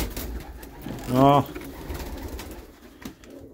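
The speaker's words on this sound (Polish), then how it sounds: "Piękne gołębie." A single short pigeon coo rises clearly and close by, over a murmur of nearby voices and background noise.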